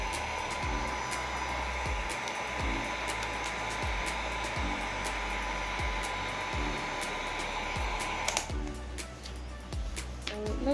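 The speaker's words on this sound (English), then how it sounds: "So I'm taking my heat gun and I'm gonna start after three." A heat gun blows hot air while making a DIY sugar and honey facial scrub, a loud steady roar with a faint tonal whine that runs the whole time and grows rougher and more uneven near the end.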